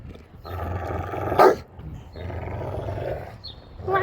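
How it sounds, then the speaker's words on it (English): Dogs playing rough, giving low rumbling growls and snarls in bursts with a sharper yelp near the middle, fairly close and loud with short pauses between bouts. "He's watching the dogs play."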